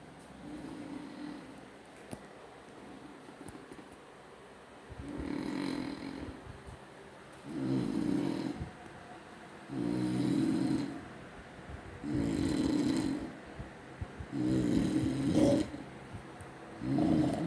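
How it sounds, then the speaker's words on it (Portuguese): A man snores loudly and steadily, each deep rasping inhale rising and fading in a slow repeating rhythm about every two seconds, close by in a quiet room. "deixa eu mostrar tudo, como ele tá roncando tão alto"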